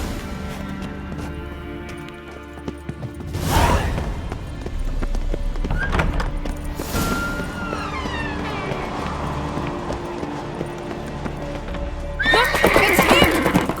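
Horses whinny and hooves clip-clop at a gallop in the Skellige region of The Witcher 3: Wild Hunt, with loud neighs at the start and near the end and continuous hoofbeats between.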